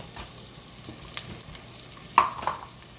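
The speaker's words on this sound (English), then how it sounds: "sauteing up, we're going to be following that with garlic and then some flour" Vegetables for broccoli cheddar soup sauté in a pan, a soft steady sizzle close by with a few stirring scrapes and clinks, no talking.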